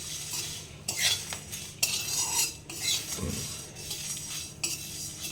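Spice mix dry-roasting lightly in a pan for samosa filling, with a series of close metal utensil scrapes and clinks as it is stirred, quiet between strokes.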